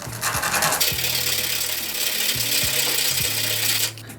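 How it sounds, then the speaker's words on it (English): Sandpaper rubbing back and forth against a MagSafe T-connector, a steady close-up rasping scrape with a few brief pauses between strokes, no talking. "Now we're going to sand it."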